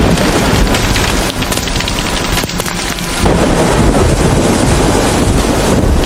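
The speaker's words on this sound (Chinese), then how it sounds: "哎呦，这风怎么突然这么大？" Strong wind before a hailstorm roars and buffets the microphone without a break, a loud, rough rushing that fills the whole scene.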